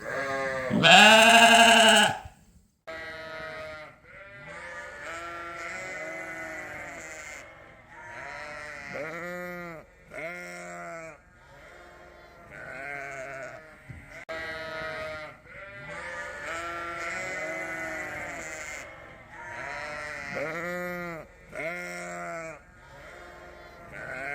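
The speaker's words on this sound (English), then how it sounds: "the Dorsets will all get their tags and everything written down for me, so I'll know which ewes are in Casanova's group." Dorset and Suffolk sheep bleat repeatedly on a farm, a string of clear, close calls of varying pitch following one another in quick succession, with no talking.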